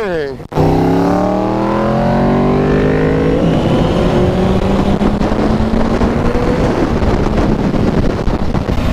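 A Yamaha R1 motorcycle pulls away, its engine note rising through the gears against heavy wind rush on the microphone, loud and close, with a rider's voice heard briefly.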